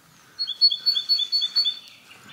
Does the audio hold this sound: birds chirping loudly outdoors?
yes